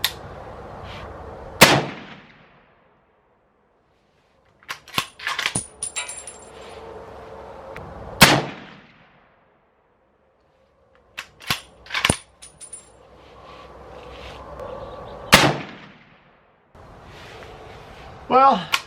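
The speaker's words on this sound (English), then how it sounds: "I'm going to shoot these at the lower left target." Ruger Go Wild rifle in .300 Win Mag firing single shots at a target range, three or four loud sharp reports spaced several seconds apart, with quiet handling noises between them.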